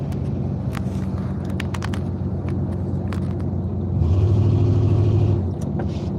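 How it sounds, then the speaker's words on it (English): Steady low engine rumble from inside a car crawling in slow 4 p.m. traffic, with scattered clicks and a louder passing swell of vehicle noise midway, no talking. "I'm in traffic right now"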